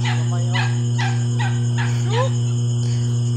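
A dog barks about five times in a steady rhythm, somewhat distant, over a constant low hum.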